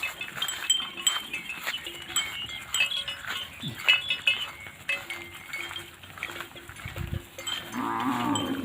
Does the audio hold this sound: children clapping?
no